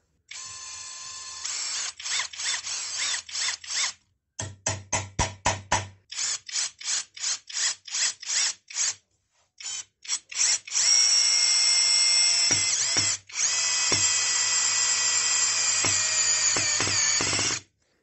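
A compact cordless drill driver drives a 4.8 x 65 mm screw, whirring in a string of short rapid bursts before settling into a long continuous run. The sound is loud and close, with no talk.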